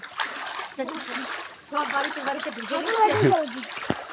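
People play kabaddi in Teesta river flood water, making repeated splashes close by amid a busy wash of water noise, with voices shouting and talking over it.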